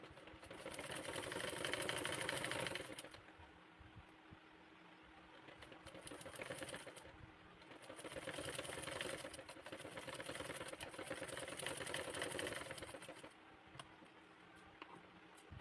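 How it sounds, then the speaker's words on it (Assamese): Domestic sewing machine stitching a blouse piece along a seam, its steady motor whir running in long bursts with short pauses between, close and fairly loud with no talk. "এই পিচটো মই চিলাই দেখুৱাম।"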